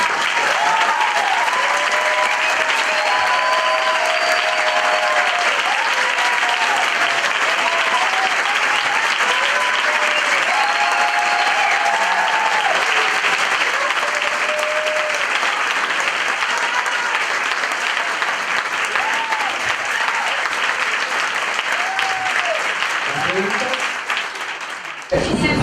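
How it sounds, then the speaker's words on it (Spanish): A lecture audience gives a long round of steady applause at the close of a Spanish-language talk on health, dense and continuous for about twenty-five seconds before cutting off abruptly. "un fuerte aplauso"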